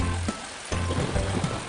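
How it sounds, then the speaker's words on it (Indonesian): Steady rain falling as a sound effect in an animated children's story, a continuous hiss of drops with a low hum beneath, briefly dipping before resuming. "Musim hujan pun akhirnya tiba."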